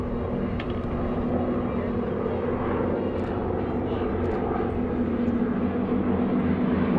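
GEICO Skytypers warbirds, each with a 600 horsepower supercharged 9-cylinder radial engine, fly in formation at a World War II air show, producing a steady, moderately distant droning engine roar with a faint hum throughout.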